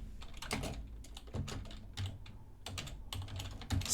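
Rapid, irregular clicking of computer keyboard keys as code is typed, close and quiet, with short pauses between flurries of keystrokes and no talking.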